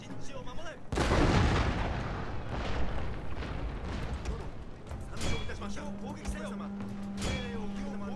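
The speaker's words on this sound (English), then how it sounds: "Whoa, cannon's already going off." Cannon artillery firing in the video game Total War: Shogun 2, a heavy boom followed by rumbling battle noise and further distant shots and crackles, with a voice talking over it.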